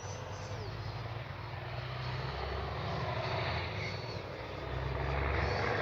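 A Freewing F/A-18C 90mm electric ducted-fan RC jet makes a touch and go with gear and landing flaps down, a steady loud rushing fan roar that swells toward the end, close and continuous.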